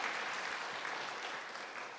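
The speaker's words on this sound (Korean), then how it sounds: "우리 뜨거운 박수 감사합니다" A church congregation at a Sunday service applauds to welcome new members, steady moderate clapping from many hands throughout, somewhat distant and even.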